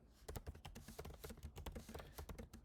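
Rapid, uneven keystrokes on a computer keyboard, entering a text reply during a mobile restaurant food-ordering demo. Close and fairly quiet clicks, with no talking.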